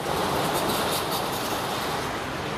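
Wuppertal's suspended monorail, dating from 1901, rumbles past in a steady broadband roar with high-pitched rail hiss, loud and continuous throughout with no voices.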